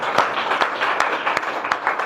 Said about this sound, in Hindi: चलिए इनके लिए एक बार जबरदस्त ताली दीजिए।